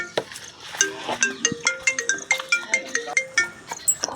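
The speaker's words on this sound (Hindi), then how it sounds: "पकड़ो पकड़ो मेरा फोन आ रहा।" A mobile phone ringtone plays on its own in a comedy sketch, a bright, quick run of electronic melodic notes repeating in short pulses for several seconds.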